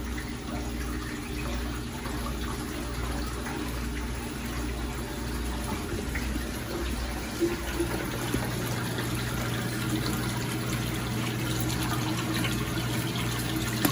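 CaribSea Mineral Mud is poured into a 600-gallon reef tank refugium, making a continuous close rush of flowing, trickling water that holds steady throughout, with no talk.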